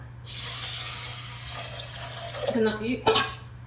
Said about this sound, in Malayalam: ഈ കപ്പിൽ 4 കപ്പ് വെള്ളം ഒഴിച്ചു.